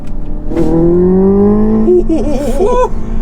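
A Hyundai Ioniq 5 N accelerating hard with N Grin Boost: a loud, rising synthetic engine tone climbs steadily, then warbles through rapid simulated gear-shift dips near the end.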